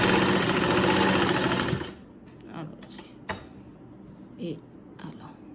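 A sewing machine stitching lace onto fabric runs loud and steady, close by, for about two seconds and then stops, followed by light handling noises and a voice speaking briefly.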